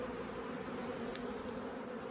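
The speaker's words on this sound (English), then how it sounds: "Look guys, here's the new home. Attract all these bees in." Honeybees buzz faintly around a newly set up hive, a soft continuous drone that holds steady throughout without any talking.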